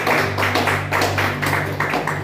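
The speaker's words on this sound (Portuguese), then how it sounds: "Palmas para Jesus, amado." Church congregation clapping together in a steady rhythmic beat, loud and close, over a sustained organ or keyboard drone.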